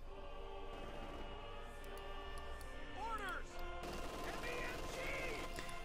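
Rifle and small-arms gunfire in Company of Heroes 2, a 1v1 match with Wehrmacht against US Forces, crackling in dense overlapping bursts amid other battle noise and a steady game soundscape, with a commentator's voice faintly present.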